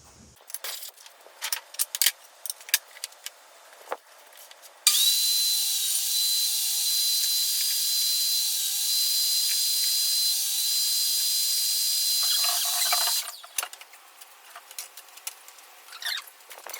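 A power saw cuts the ends off a wooden board for a rod rack, giving one loud, steady high-pitched whine that holds for about eight seconds between quieter clattering and handling noises.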